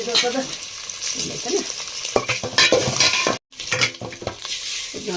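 Boiled eggs fry in hot oil in a pan for egg 65, a close crackling sizzle broken by scraping stirs and metallic clinks, cut by one very short silence.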